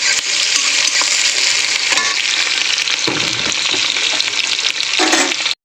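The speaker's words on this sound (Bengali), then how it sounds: "আমি ওর মধ্যে এক এক করে সব ভেজিটেবল যেগুলো কেটে রেখেছি দিয়ে দেবো।" Chopped vegetables fry with browned garlic in a hot pan, giving a loud, dense, continuous sizzle with occasional stirring scrapes and bumps, ending abruptly.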